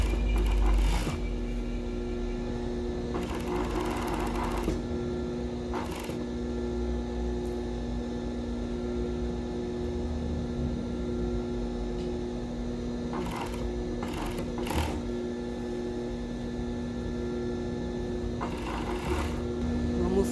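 Sewing machine stitching a bikini top strap, running in a steady whirring hum with short bursts of faster stitching, close and fairly loud, with a faint voice now and then.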